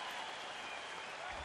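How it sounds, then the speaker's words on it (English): A baseball crowd at Citizens Bank Park in Philadelphia gives a standing ovation, a dense, steady roar of clapping and cheering from thousands of fans that fills the whole stretch evenly with no pauses. "The crowd here at Citizens Bank Park gave him a standing ovation."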